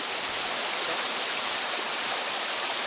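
A small waterfall pours down into a hole, making a steady, loud, broadband rushing of water up close with no breaks and no voices.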